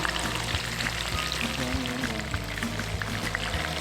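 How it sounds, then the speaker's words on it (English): Catfish fries in a pan of hot oil, with dense, continuous crackling and bubbling sizzle up close. It runs steady and loud, with a low hum underneath and no speech. "And it's almost fried up"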